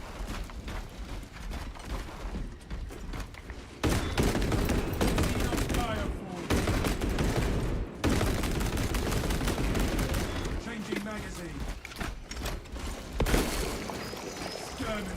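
Video game gunfire from a weapon held on continuous fire, long loud rapid bursts broken by brief pauses and clicking mechanisms, with a player talking over it at times.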